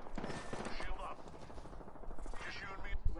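Video-game gunfire rattles steadily through a battle royale match, a constant wash of shots at moderate distance under overlapping game voice callouts.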